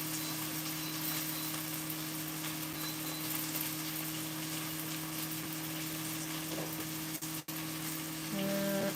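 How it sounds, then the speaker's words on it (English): Serrano chilies frying in oil give a steady, moderately loud sizzle that runs through the whole stretch without pause, with a short clatter near the end. "in this oil, I'm gonna throw some serrano chilies"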